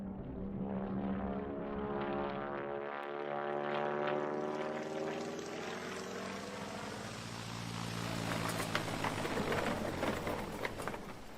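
Propeller airplane droning steadily in flight as a radio drama sound effect, a continuous loud engine hum with shifting tones, no voices over it.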